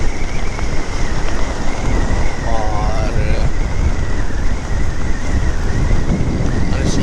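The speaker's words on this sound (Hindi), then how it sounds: "यहाँ पर बड़ा जो है वो बड़ी तेज़ हवा चल रही है" Strong wind roars steadily into the microphone at Faisal Base in Karachi, a continuous loud buffeting rush with traffic noise under it, recorded while riding a motorcycle.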